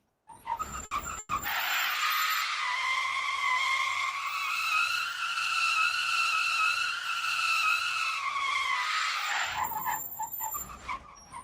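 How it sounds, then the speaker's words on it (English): A car brakes hard in the video game Heading Out, its tires letting out a long, loud, tonal skid squeal that rises in after a short knock, holds for several seconds, then cuts off abruptly. "This is braking."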